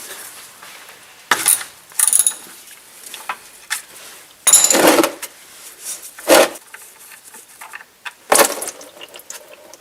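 Metal ratchet clicks in short bursts as an 8mm drain plug is loosened on a Porsche Cayenne Turbo during an engine oil change, with a few sharp metallic tool knocks between quiet pauses.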